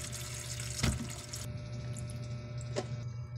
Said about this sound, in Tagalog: Hugasan natin itong mga okra na ito.